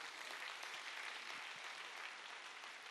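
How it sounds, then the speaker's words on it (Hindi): Audience applause at an LIC agency awards event, a dense, steady wash of clapping from a crowd, fairly distant and even throughout without a break. "दोस्तों एक बहुत बड़ी तालियां उनके लिए हो जाए।"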